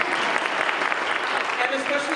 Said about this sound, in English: You need to clap for them too.